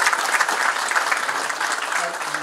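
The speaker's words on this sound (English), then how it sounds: "A big round of applause, ladies and gentlemen," A conference audience claps for the defence minister at an event on defence-sector opportunities for small businesses, dense and loud throughout as a steady wash of clapping.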